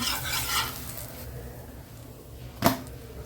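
Pearl millet adai, a traditional kambu adai, cooking on a low flame to a crisp: a soft, faint sizzle with a few light scrapes and one sharp utensil clink near the end, and no voices.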